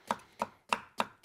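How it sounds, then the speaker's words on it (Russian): Zucchini being coarsely chopped with a knife on a cutting board: four crisp, evenly spaced thuds, close and distinct, with no talking. "Грубо его"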